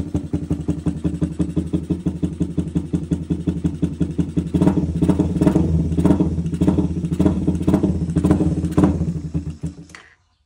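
Motorcycle engine fitted with a new non-resistor spark plug idles steadily up close, then is revved into a louder, rougher run with repeated throttle blips before cutting off at the end.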